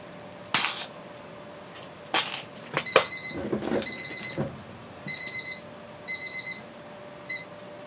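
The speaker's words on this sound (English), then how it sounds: "I forgot to turn the alarm off for it" Alarm clock set as a medicine reminder goes off in repeated bursts of rapid electronic beeps, several clusters with short gaps, close and loud after a few clicks and handling noises.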